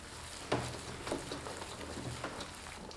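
Meat filling with chopped chives is stirred in a bowl, making quiet, soft squelching strokes at an uneven pace, close but faint.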